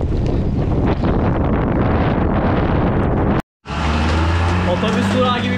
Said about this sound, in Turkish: rüzgar da başladı.